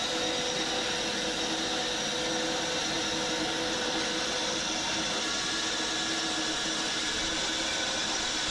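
A power saw runs continuously with a steady, loud high-pitched whine and broadband buzz, unbroken from start to finish.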